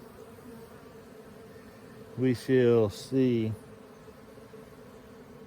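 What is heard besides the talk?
scout bees buzzing around swarm trap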